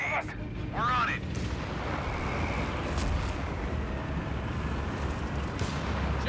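Incoming mortar fire in Company of Heroes 3 gives a deep, continuous rumble of distant blasts and battlefield noise. A couple of short whistling tones sound early on, and voices are heard over the din.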